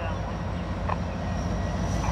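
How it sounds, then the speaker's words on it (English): A local freight train rolls past just off a trestle, a loud, steady rumble close by with a low mechanical drone throughout. "Got the local coming through here, folks."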